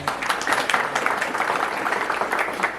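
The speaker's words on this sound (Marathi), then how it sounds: "तुमच्यासाठी एकदा जोरदार टाळ्या" Audience applause at a Zee Marathi celebration event, dense steady clapping from a crowd held at an even level throughout.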